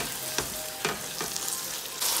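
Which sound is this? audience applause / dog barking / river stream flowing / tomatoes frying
tomatoes frying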